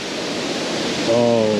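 An indoor water feature at Bangalore airport's Terminal 2, set among plants, gives a soft, steady rushing wash, and a voice starts speaking over it near the end.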